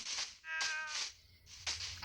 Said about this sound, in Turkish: Aa kedi.